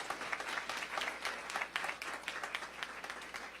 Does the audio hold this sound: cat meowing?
no